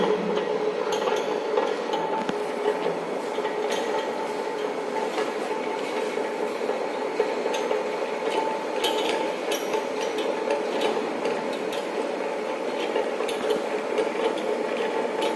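Motor of a governor test apparatus running up toward 250 RPM, a continuous whirring mechanical drone with a faint rattle and steady level throughout, close by and without speech.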